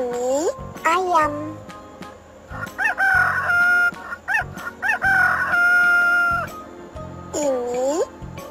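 A chicken crows and clucks, with drawn-out cock-a-doodle-doo calls cut by short clucks. The sounds are loud and near, and a cat-like mewing call comes in at the start and again at the end.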